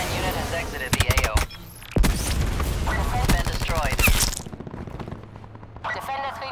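Strafing gunfire from a support aircraft in a first-person shooter, with dense bursts of rapid fire under overlapping radio chatter, then a quieter tail with voices.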